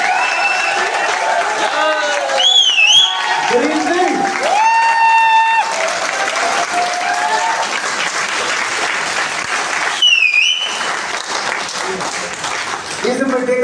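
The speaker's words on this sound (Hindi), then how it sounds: "आप कहीं ये सोच रहे हो ताली मैं ही बजा रहा हूं" Audience applause and clapping at an RCM business meeting, a steady loud crowd clap lasting throughout, with whistles and short shouts rising over it and a voice speaking briefly amid the noise.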